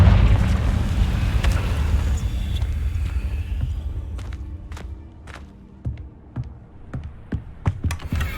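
In Hogwarts Legacy, a Confringo spell detonates in a loud, rumbling explosion that slowly decays, followed by scattered sharp clicks and light impacts as the blast fades.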